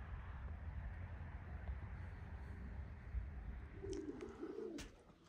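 Pigeons coo briefly near the end, a soft low burble after a long stretch of steady outdoor background noise, faint and distant overall.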